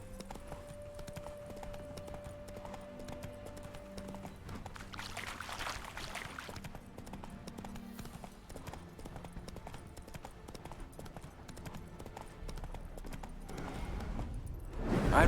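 Horse hooves clip-clop at a steady trot in The Witcher 3: Wild Hunt, fairly faint, over a low continuous background hum.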